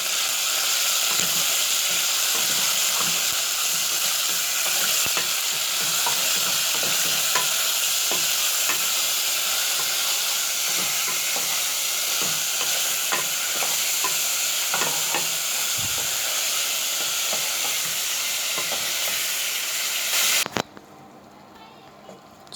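Chicken fries with garlic in a pan, a loud continuous sizzle and crackle with occasional stirring scrapes, running steadily for about twenty seconds before cutting off abruptly.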